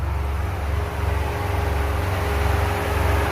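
A Toyota Vios Gen 2's air-conditioning compressor and cooling fan run steadily, giving a close, even low hum with a faint pulsing throb throughout and no talking.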